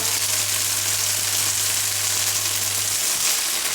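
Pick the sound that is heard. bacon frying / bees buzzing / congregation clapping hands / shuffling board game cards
bacon frying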